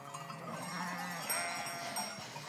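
A flock of sheep bleats in open country, scattered calls over a steady background wash, with a faint clank like a bell among them and no talking.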